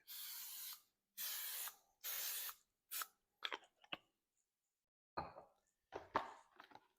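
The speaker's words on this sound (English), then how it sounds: "I'm going to spray the top first just to make sure my dough doesn't stick." Three long hissing bursts from a spray can of oil onto bread dough, close and loud, followed by shorter sprays and rustling handling noises.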